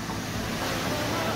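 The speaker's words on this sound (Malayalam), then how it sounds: "റൂമിൻ്റെ നേരെ ഫ്രണ്ടിലാണല്ലോ കടൽ." Sea waves on the shore at Kavarathi, Lakshadweep, a steady broadband wash of surf with wind noise, continuous and fairly loud with no distinct breaks.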